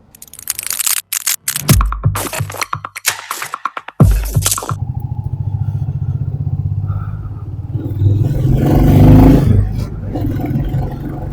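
A motorcycle ridden on an early-morning ride in Hyderabad, its gears shifted without the clutch: engine pulses and revs that rise and drop, with loud wind rush building in the second half and no talk.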